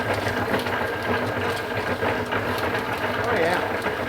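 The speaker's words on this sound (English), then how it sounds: "So this old mixer, I gotta actually start it by hand." An old mixer engine runs steadily after a hand start, a continuous close mechanical chugging drone with a repetitive knock, steady in level throughout with some background sounds.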